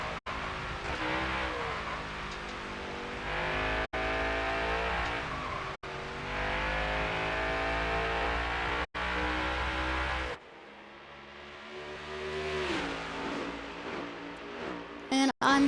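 Race car engines roar continuously around a New Hampshire oval in a racing video game, loud and sustained with revving and shifts as cars exit corners onto the straightaway, while a person talks over the engine noise.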